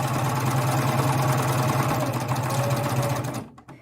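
A sewing machine fitted with a binding attachment sews binding onto fabric with a loud, steady, rapid mechanical whir that stops abruptly near the end.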